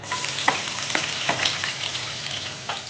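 Onion hits hot oil in a pan while cooking a Filipino tuna omelette alongside browning garlic, giving a continuous close sizzle with a few sharper bursts and stirring scrapes.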